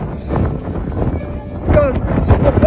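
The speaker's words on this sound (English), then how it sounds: "Very windy up here" Strong wind buffets the microphone in heavy, roaring gusts, with a voice briefly heard partway through.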